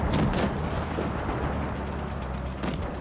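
A tank cannon fires in World of Tanks Blitz, a deep, broad boom that fills the whole moment, close and loud with a rumbling tail and no talk.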